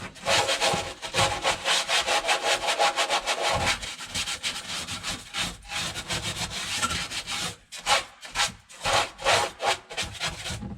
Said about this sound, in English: If you take just a Scotch-Brite pad and just kind